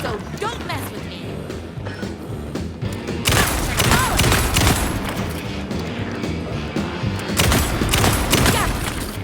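Rapid gunfire and heavy booming impacts in the video game Alan Wake 2, dense overlapping shots building into a sustained barrage with a game score and effects, while a person talks over the action.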